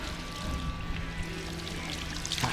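Fresh water pours steadily from a pulpulak, a public drinking fountain in Gyumri, Armenia, a constant close splashing stream with no pauses.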